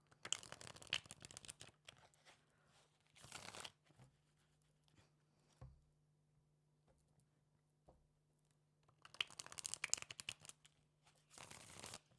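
Playing cards are riffled and shuffled in quick bursts, a few separate shuffles with quiet pauses and small taps between them.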